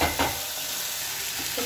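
Tomatoes with turmeric and red chili are stirred in a hot pan, producing a close, steady sizzle with a couple of brief scraping stirs in a short burst.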